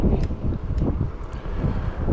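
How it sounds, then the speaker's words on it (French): Wind buffets a microphone outdoors on an autumn walk, loud low rumbling gusts pulsing irregularly throughout with no speech. "Normalement ça diminue un peu le bruit du vent"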